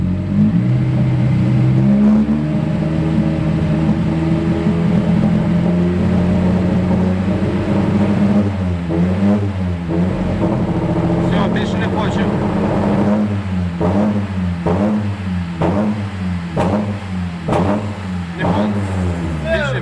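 A Nissan 200SX with an SR20DET engine and a lit check-engine light revs hard, first holding a steady drone, then bouncing rhythmically against a rev cut near 2,800 rpm in repeated surging pulses.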